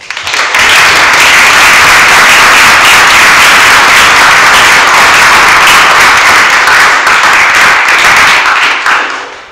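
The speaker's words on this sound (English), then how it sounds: "We give Bob a round of applause." An audience at a startup event bursts into sustained, loud applause that swells quickly, holds as a dense wash of clapping for several seconds, then tapers off at the end.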